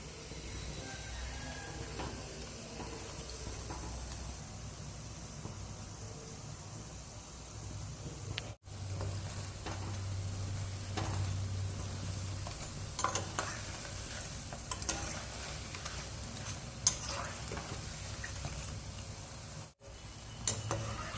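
Urad dal bondas frying in hot oil, a steady close sizzling hiss that runs continuously with faint stirring clinks and no talk.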